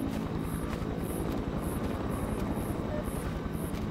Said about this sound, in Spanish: ya se va alejando, va el helicóptero